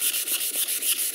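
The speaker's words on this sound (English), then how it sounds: "So you just keep sanding that." Close, rhythmic strokes of a flat sanding block rasp back and forth against a car body panel, about eight even passes with a scratchy, hissing texture.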